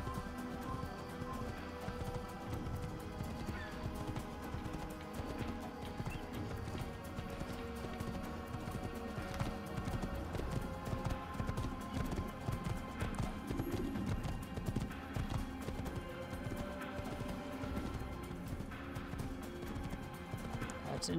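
Horse hooves clip-clop steadily in Assassin's Creed as a rider in a white robe crosses Crusader territory, a continuous rhythmic trot lasting the full stretch at moderate, even loudness.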